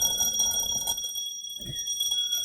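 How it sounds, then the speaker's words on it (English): An electric alarm bell rings inside a glass jar hooked to a vacuum pump, a bright sustained metallic ringing that drops away briefly and then returns at a similar level. "this is a short video of a bell, like an alarm bell, ringing inside of a jar"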